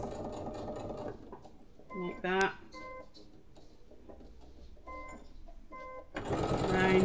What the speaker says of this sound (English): This is basically just to top stitch this bit and hold